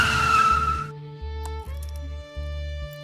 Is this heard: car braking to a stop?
yes